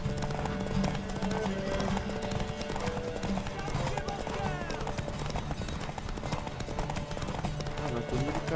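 Galloping horse hooves pound steadily through a horse race in The Witcher video game, a fast continuous clip-clop rhythm under game music and voices, loud and close throughout.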